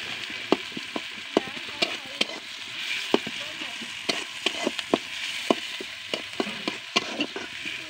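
Food fries and sizzles in a pan at home, a steady hiss with irregular sharp crackles and pops throughout; no one speaks.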